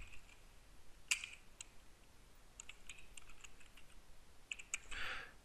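Faint, sparse keystrokes on a computer keyboard while typing C++ code, with a few isolated taps and a short cluster of clicks, quiet and close against low background hiss.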